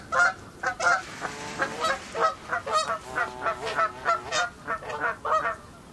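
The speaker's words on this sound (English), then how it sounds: "Some noisy geese, it's that time of year." A flock of geese honking repeatedly by a fishing spot, loud overlapping calls in rapid succession, fairly close with no other sounds.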